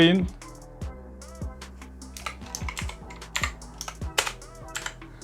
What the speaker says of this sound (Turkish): boşluk tire C yazıp Enter'a basıyorum